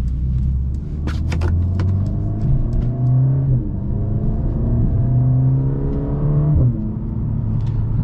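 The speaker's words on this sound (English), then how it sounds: "I don't know if you guys can hear the pops in the back" Heard from inside the cabin, a 2022 Mercedes-AMG CLA 45 Coupe (382 hp) in Sport Plus mode drones loudly as it drives and accelerates. A few sharp exhaust pops crackle near the start, and the engine pitch rises and falls through the gears.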